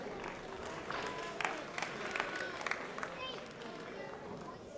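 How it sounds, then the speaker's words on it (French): A crowd at a robotics competition match claps amid steady murmur and chatter, with scattered distinct claps rising above the crowd noise rather than a full ovation. "On peut les applaudir en cours de match,"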